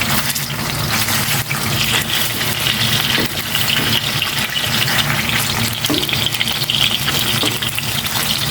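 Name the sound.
frying in cooking oil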